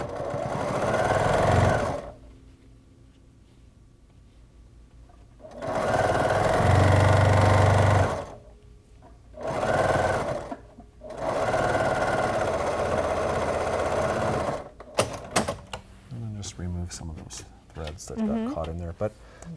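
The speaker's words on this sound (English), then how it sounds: "we're going to continue sewing around just to finish it off" A sewing machine stitches around a bias binding seam in three loud, even whirring runs separated by pauses, followed by a voice talking and some handling noise.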